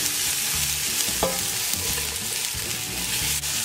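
Onion and celery frying in a pot as the base for a fish and shrimp broth, a steady close sizzle with occasional stirring scrapes throughout.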